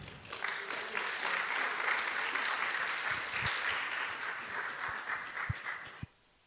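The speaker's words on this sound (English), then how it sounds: "let's give a round of applause to Tupac Martir from Sutter Studio." An audience claps in sustained applause for several seconds after a talk, a dense steady patter that stops abruptly near the end.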